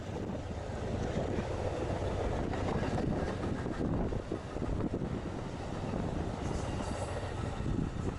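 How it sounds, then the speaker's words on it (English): An Amtrak Lakeshore Limited passenger train bound for Chicago rumbles past in a continuous broad roar, with wind buffeting the microphone, steady and fairly loud for the whole stretch. "This train, the Lakeshore Limited, goes a further distance to reach Chicago."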